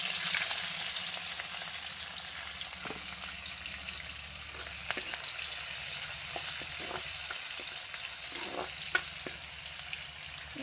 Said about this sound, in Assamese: তেলটো গৰম হৈ গ'ল। এতিয়া ইয়াতে পিঁয়াজটো দি দিছোঁ।